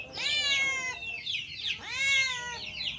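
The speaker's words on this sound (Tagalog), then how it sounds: "Yung manok, may pusa pa tayo dyan." A cat meows twice on a farm, long drawn-out cries close by, each rising and falling in pitch with a short gap between them.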